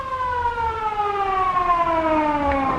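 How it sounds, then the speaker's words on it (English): An ambulance siren wails in a steady, loud tone with several harmonics that slowly glide downward, heard alone with no talk. "Sounds like an ambulance."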